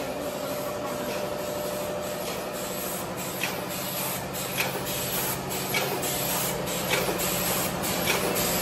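A modern paper plate making machine runs continuously with a dense mechanical hiss and rhythmic clicking pulses, steady and moderately loud throughout, no voices present.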